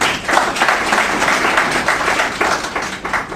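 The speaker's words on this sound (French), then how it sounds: "M. Didier Janvier, que je vous demande d'applaudir, mesdames et messieurs." A conference audience applauds after a guest is introduced, a dense, steady wash of many hands clapping at close range that holds for the whole stretch with no voices on top.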